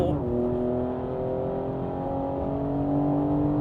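A BMW M4 accelerates on a public road, its engine note climbing steadily in a smooth, continuous rising whine heard from inside the car, with people talking over it.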